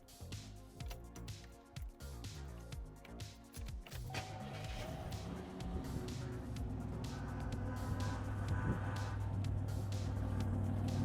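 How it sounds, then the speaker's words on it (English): A 1987 Buick Grand National T-Top engine cranks and catches, then settles into a deep rumbling idle that builds as it is given gas, heard close and loud. "Let me start it right now,"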